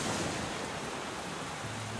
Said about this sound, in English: It really is a bad rain.